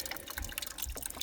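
Water dribbles and drips in quick, irregular little splashes from beneath a leaking hot water heater, close and faint, with no talking.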